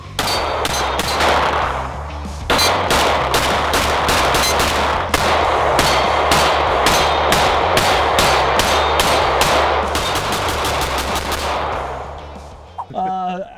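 A SIG M17 full-size striker-fired pistol is fired in a long string of sharp, loud, closely spaced shots with brief pauses, sounding near and cracking on an outdoor range.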